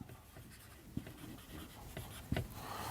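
A pen scratches steadily across paper while a date is written into an accounting ledger for a depreciation lesson, close and soft, with two sharper taps as strokes land.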